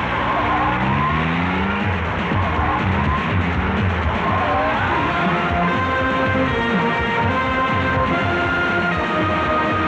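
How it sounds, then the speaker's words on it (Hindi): A car speeds off in a Hindi action film, tires squealing and engine roaring loud and close throughout, with rising and falling skids layered over steady road noise and no talk. "गाड़ी चलाओ जल्दी।"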